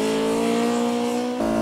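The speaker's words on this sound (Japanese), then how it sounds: "Orito follows, testing the TRD-tuned Altezza." A TRD-tuned Toyota Altezza with a naturally aspirated engine and close-ratio gearbox is driven hard on a track: a loud, steady engine drone that drops in pitch near the end, as if shifting gear.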